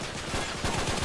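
Rapid gunfire in the co-op shooter Uncharted 3, a quick run of sharp shots growing slightly denser toward the end, close and fairly loud with no talk over it.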